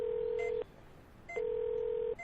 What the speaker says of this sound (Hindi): उसने सबसे पहले अपने पापा को फोन